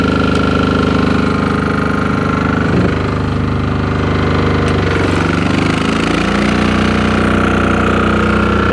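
An MEP 831A generator engine fitted with an aftermarket governor controller runs loud and close for the whole stretch, a steady droning hum whose pitch shifts and settles partway through, with no talking.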